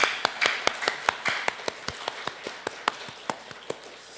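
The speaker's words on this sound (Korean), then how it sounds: "우리 한번 박수로 격려 한번 해볼까요?" Church congregation clapping for volunteers after a Sunday sermon: sharp, distinct claps in a fairly regular rhythm, about four or five per second, close and moderately loud over a soft hum of more scattered clapping.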